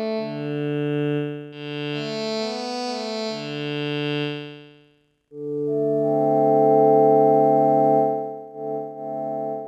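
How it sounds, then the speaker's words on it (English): A jazz organ patch on a Kawai K1 II synthesizer plays sustained chords, bright and buzzy with a slight chorus shimmer, broken by a brief gap before a fuller held chord and a short final phrase. "Jazz organ, that works quite well."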